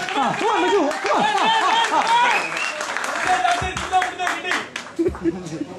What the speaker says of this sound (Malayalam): ഒരു ഉഗ്രൻ കൈയടി കൊടുത്തേ